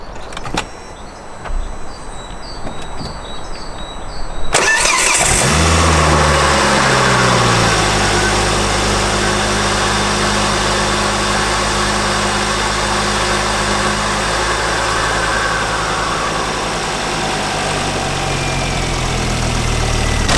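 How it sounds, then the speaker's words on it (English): Car with a turbo and a deleted crossover baffle is started after a few clicks, then settles into a steady, loud idle to warm up, preceded by quiet rustling and clicks. "we're going to let the car idle just to warm up"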